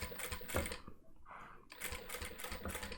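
A domestic sewing machine stitches a seam on a simple fabric eyeglass case, running in quick bursts with a brief pause and a reverse backstitch to lock the end, fairly close and moderately quiet.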